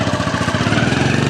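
A motorcycle engine runs close and loud with a steady, rapid chugging pulse throughout, no voices over it.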